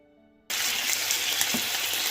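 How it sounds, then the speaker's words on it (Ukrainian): Sizzling suddenly erupts after a brief low hum, a steady loud crackle of wild mushrooms frying in hot oil in a pan, close up and continuous. "Смажимо 2-3 хвилини гриби на сковороді, на розігрітій олії."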